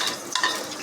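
Sliced onion fries in oil in a pot for beef pulao, a continuous close sizzle broken by the scrape and clink of a spoon stirring.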